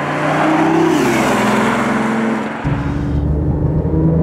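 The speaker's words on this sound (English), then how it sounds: "I guess that's not really how a three-cylinder engine sounds" A BMW i8 with a three-cylinder engine accelerates hard, its loud, steady engine note climbing in pitch, dropping briefly at a gear change and then pulling again, heard from inside the car with no one talking.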